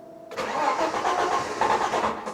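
A hot Citroen XM 3.0 24V engine cranks briefly, catches and settles into a loud, close idle with a slight rev in a short burst.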